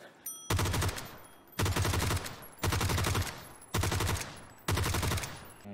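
Automatic G36 rifle fire from the video game PUBG, played as five loud, rapid bursts of about a second each, separated by short gaps, with no voices.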